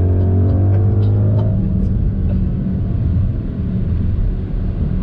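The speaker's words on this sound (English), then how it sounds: "I just had the honor of taking you for a spin in the world's fastest, most powerful luxury three-row SUV." A 2021 Mercedes-AMG GLS 63, a large three-row performance luxury SUV, drives with a steady, loud, low engine and road rumble that stays even throughout.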